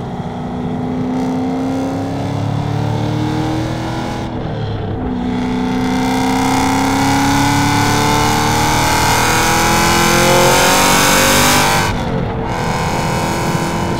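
A 1000-horsepower Hennessey-upgraded Cadillac with a six-speed manual idles and warms up, a loud, steady engine drone with slowly rising pitch, close by and continuous with no talk.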